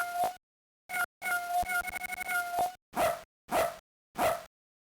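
Chiptune dog barks and yips from an LSDj animal sounds kit on a Game Boy, several short electronic bursts spaced apart, then a rapid stuttering run and three louder closing barks, clean and alone.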